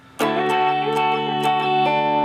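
Distorted electric guitar playing chords in a song intro, a loud strummed chord starting abruptly and ringing with sustained harmonics, re-struck rhythmically several times, no voices.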